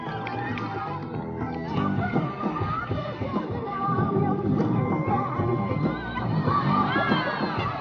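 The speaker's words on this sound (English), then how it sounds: "Give it up for Michael and Rob, ladies and gentlemen, one more time on that one." Crowd at a BMX school stunt show cheering and shouting for riders after a trick, with children's yells mixed into a loud, sustained roar of applause.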